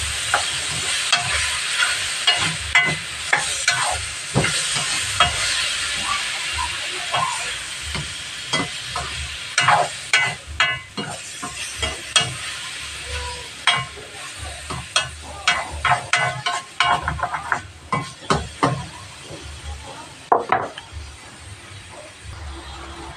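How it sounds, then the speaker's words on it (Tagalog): Pork adobo with bay leaves is stirred in a sizzling pan, a steady frying hiss broken by frequent scraping clicks of the spoon against the pan, close and continuous. "Haluin lang natin."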